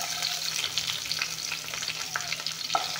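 Bay leaves and onions fry in a pan, a continuous close sizzle with occasional stirring scrapes and crackles, no voices.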